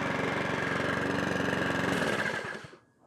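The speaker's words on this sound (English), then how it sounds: "that's a Mountfield HP42R now all up and running" A Mountfield HP42R rear-roller lawn mower engine runs at a steady, loud, close drone, then cuts out and winds down to near silence in the final second.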